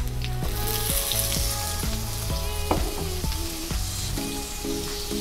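Cut, washed potatoes sizzle in a pan with chopped ginger for a fasting-style khichdi. A steady, fairly loud frying hiss runs throughout, with tonal music playing underneath.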